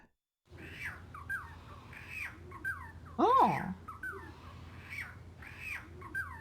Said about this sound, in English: What is a friar bird?